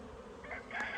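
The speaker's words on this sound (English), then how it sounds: "So the bees are getting a little agitated." Agitated honeybees buzzing around an open hive, a brief faint swarm hum that swells slightly near the end with no talking.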